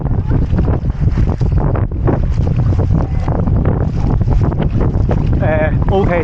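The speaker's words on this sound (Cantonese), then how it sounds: "哇，好大浪喎出面" Rough sea waves pounding around a small boat out on the water, heavy wind buffeting the microphone, loud and constant, with people talking over it.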